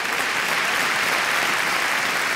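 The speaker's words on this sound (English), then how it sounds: "Supreme Master Ching Hai's Association, so we applaud them all" An audience applauds dancers at an association event, a dense steady wash of clapping filling the hall at even volume throughout, with no voices.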